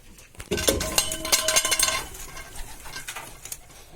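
Pigeons flap and coo close by inside a pigeon loft, with clattering wingbeats and scattered rustling bursts, busiest early then quieter.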